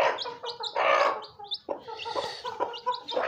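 Young chicks cheep close by in quick bursts of high, shrill peeps. The peeps overlap in a busy, uneven flurry that lasts the whole moment.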